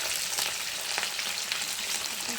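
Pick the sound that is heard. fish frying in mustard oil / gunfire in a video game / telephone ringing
fish frying in mustard oil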